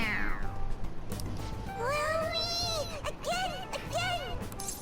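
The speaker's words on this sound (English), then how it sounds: "It meows when you press on its head." Toy cat meowing when its head is pressed in Persona 5 Royal, with several bright wavering meows in a row, close and clear over a soft background bed of music.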